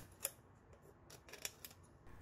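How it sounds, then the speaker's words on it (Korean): Scissors snip the cut edge of a plastic PET bottle, two sharp crisp clicks about a second apart, close and clear over a quiet background with no talking. "이왕이면 끝부분이 말끔한 게 좋기 때문에 가위를 사용해서 다듬어 주시고요."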